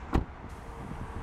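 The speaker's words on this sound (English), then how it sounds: "yet it sounds like this when you close the door." A 2014 Hyundai Azera Limited's car door shuts with one soft, muted thunk near the start, followed by a quiet interior hum.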